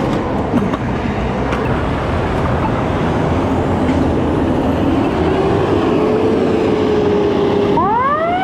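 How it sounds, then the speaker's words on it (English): A fire truck and ambulance arriving at a police scene on a busy boulevard: loud, steady wailing sirens over traffic rumble, ending in a sharp air-brake-like hiss and a rising siren sweep. "Fire truck and ambulance."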